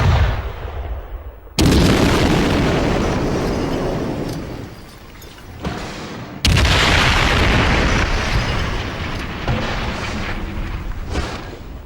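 A German 88 cannon fires in wartime combat, with two sudden loud booming blasts followed by long rumbling decays, and a smaller thud between them.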